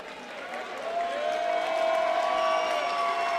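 Crowd at a Rumble fight event cheering and applauding after a bout, a broad steady roar of clapping and voices building slightly and holding, with a whistle-like tone over it.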